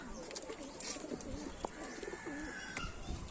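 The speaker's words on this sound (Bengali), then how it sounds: "এই যে পায়রা" Chennai-breed pigeons coo softly in a loft, a few low, rolling coos over a faint background of other bird chirps, quiet and close.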